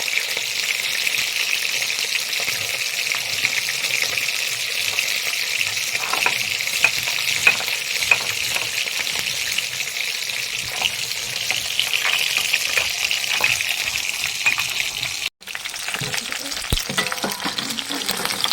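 Fish frying in hot oil for a Bengali fish curry, a steady, close sizzle and crackle that runs unbroken throughout with one brief sharp knock near the end.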